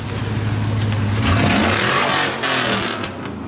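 Modified truck built for tuff truck competition revving hard, a close, loud engine roar that climbs and surges in pitch, then drops back as the throttle eases near the end.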